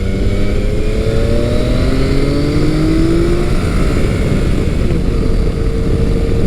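A Yamaha FJ-09 motorcycle accelerating on the road, a loud continuous engine drone with rising pitch as revs climb, heavy wind rush over it, no voices.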